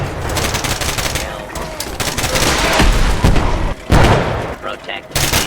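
Explosions and gunfire from a Fallout 4 combat scene roar in dense, loud bursts with sharp booms around the four-second mark, the battle noise continuous throughout.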